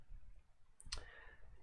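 A single crisp click from a computer mouse, close and quiet in a calm room, with faint low background hum.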